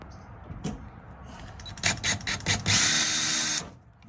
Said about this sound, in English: And then we just drill pilot holes.